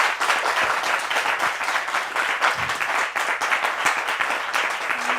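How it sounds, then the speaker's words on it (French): An audience at a church program applauds loudly and continuously, dense clapping filling the space without pause. "On peut applaudir très fort."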